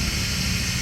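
A Hyundai D4EA diesel engine with a noisy hydraulic lifter runs close by, giving a steady, loud, dense mechanical roar with no pauses and no voices over it.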